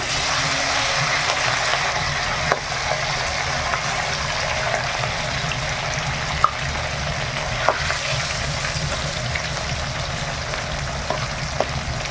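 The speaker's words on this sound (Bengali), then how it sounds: "এইবার মাছটা ভেজে নেব তেল গরম হয়ে গেছে মাছে লবণ হলুদ মাখিয়ে রেখেছি দিয়ে দিলে" Salt-and-turmeric-rubbed fish sizzles steadily in hot oil, a constant close frying hiss with a few faint pops and clicks scattered through, no voices.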